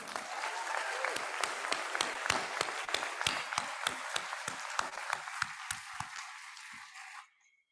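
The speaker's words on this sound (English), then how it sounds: "So big round of applause to yourself." Applause from the audience at a university inaugural ceremony, a dense burst of many hands clapping with sharp individual claps standing out, steady for about seven seconds before stopping abruptly.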